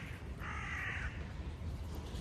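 A crow gives one harsh caw, moderately distant over a steady outdoor hiss of background noise.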